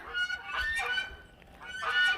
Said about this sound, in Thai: ห่านนะคะ